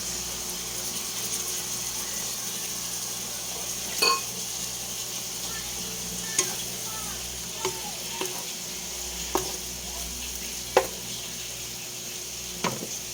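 Beef sizzles and fries in a pan with a steady, close hiss, and the spoon scrapes and clicks against it now and then at irregular intervals. There is no talk.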